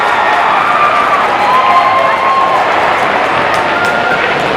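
A packed gym crowd at a high school basketball substate final claps and cheers in a loud, sustained roar of applause with scattered shouts, lasting the whole moment.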